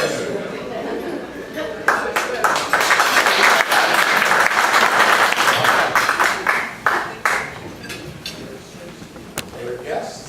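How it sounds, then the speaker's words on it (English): Audience members at a meeting applaud a guest speaker, with loud dense clapping swelling after a brief pause, holding steady, then thinning out amid murmured voices and scattered clinks. "Another round of applause. for our guests."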